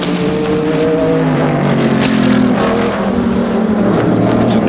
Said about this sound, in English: this is a diesel-powered Audi, a turbo diesel, and it's making history here today